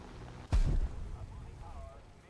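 A loud explosion or artillery blast in the War Thunder video game, one sharp low boom with a short rumbling tail, followed by quieter game ambience.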